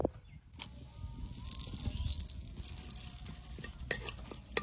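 Bay leaves and whole spices frying in fish-frying oil in a pan, a steady broad sizzle with stirring scrapes and a few sharp clicks, close by and with no talking.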